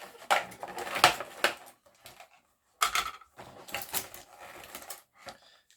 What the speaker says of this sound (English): apologies for the plasticky noise as I'm removing everything.